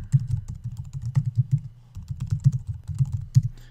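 Rapid typing on a computer keyboard during a web sign-up, with irregular clusters of light clicking keystrokes close by and no voice.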